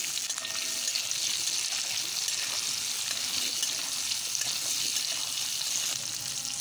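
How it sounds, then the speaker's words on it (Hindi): Green onions frying in a pan for a green tomato vegetable dish, giving a steady, close hiss and sizzle that runs unbroken the whole time with no voices. "चलिए इन्हें भी थोड़ा सा 1 मिनट के लिए कम से कम फ्राई कर लें।"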